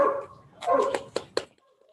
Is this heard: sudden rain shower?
no